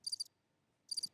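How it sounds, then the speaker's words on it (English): Crickets chirp in two short, bright trills with a silent gap between them. The sound is faint and nobody talks over it. "Creepy crickets."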